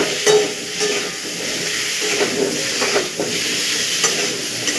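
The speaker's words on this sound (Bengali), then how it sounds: "এটাকে একটু ভালো করে লাল লাল করে ভেজে নেবেন।" Potato pieces with salt and turmeric frying in oil in a pan, a steady close hiss of sizzling with occasional light stirring clinks and scrapes, no voices.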